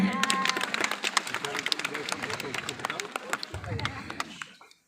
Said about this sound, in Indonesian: Wow, tepuk tangan dulu.